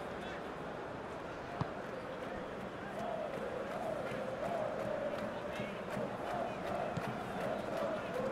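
Continuous stadium crowd murmur and chanting at a 2. Bundesliga video game match between SV Darmstadt 98 and FC Schalke 04, a steady moderate wash that swells slightly partway through, with one brief knock.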